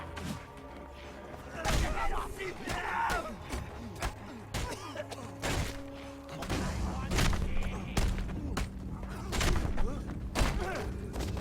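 Gunfire in the Mad Max video game, with repeated sharp bangs and thumps scattered among busy game noise while someone talks over the action.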